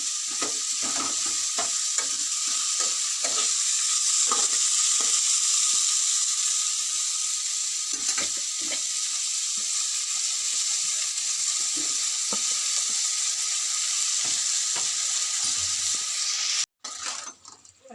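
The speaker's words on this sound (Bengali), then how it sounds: "এই দেখো মাংসটা কষা চলছে" Meat being sautéed (kosha) in a pan, a loud continuous sizzle with scattered spatula scrapes and taps throughout, briefly cut off near the end.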